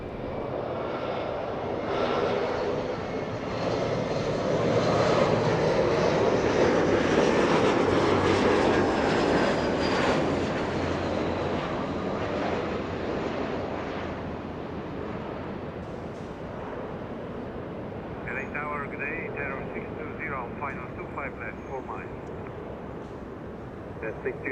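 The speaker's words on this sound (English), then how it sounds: "the arrival next to us, SkyWest 3364 from Eugene, Oregon, a little E175" SkyWest Embraer E175 arriving at LAX, its jet engine roar building to a loud peak and then tapering off, with a person talking throughout and a short tonal burst near the end.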